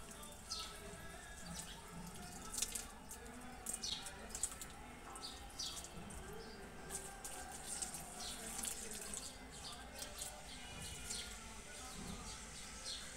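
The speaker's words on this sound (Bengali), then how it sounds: "জল নিয়ে চলে এসেছি, তুলসী গাছে জল দেব" Water poured from a container onto a tulsi plant on a sunny balcony makes a steady, soft splashing trickle, with faint bird chirps in the background.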